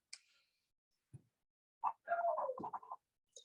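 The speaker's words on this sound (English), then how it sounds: "got 2 miniature schnauzers that love to bark." Miniature schnauzers bark and yip faintly in the background of a quiet indoor room, with a few scattered short barks and a longer whimpering, whining stretch in the middle.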